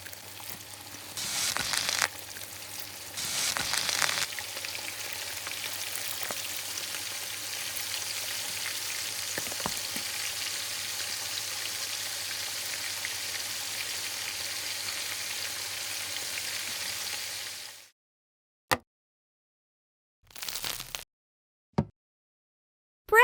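Sausage sizzles and crackles in cooking oil in a tiny miniature pan, a steady frying hiss that runs for most of the clip before cutting to near silence broken by a few short bursts.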